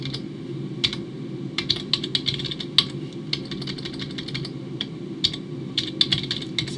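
Computer keyboard typing in bursts of quick keystrokes with short pauses, close and clear over a low steady hum while someone fills in an online form, no talking.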